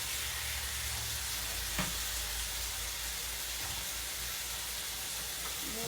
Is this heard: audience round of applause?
no